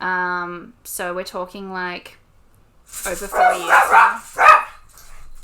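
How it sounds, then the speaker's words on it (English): A dog barks several times in quick yips early on, fairly close, followed by someone talking over indoor background. "I don't know if you can hear her barking."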